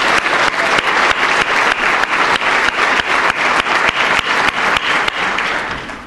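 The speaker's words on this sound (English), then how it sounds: "So let's give them another round of applause" A room of guests at a United Way of East Central Iowa campaign celebration gives a loud, sustained round of applause, with dense clapping and some sharp individual claps standing out, tapering slightly at the end.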